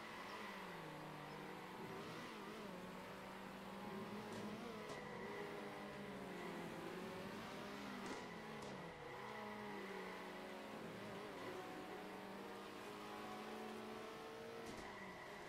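Racing cars in Circuit Superstars drift in tandem and spin donuts, engines droning and revving in overlapping wavering tones with faint tire squeals, a continuous moderately distant mechanical roar.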